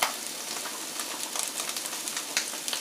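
Carrots tipped onto tofu sizzle steadily in a hot pan, a dense continuous crackle with small sharp pops scattered throughout, close and fairly loud, with no voices.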